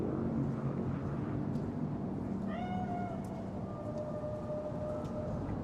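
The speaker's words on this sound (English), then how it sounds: "Chill, just a cat." A cat meows in the video game Cyberpunk 2077, a single drawn-out, tonal cry rising clearly over a steady, dense ambient background with no talking.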